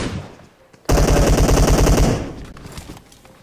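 Automatic gunfire in PUBG: a loud, close burst of rapid shots lasting just over a second, followed by fainter scattered in-game sounds.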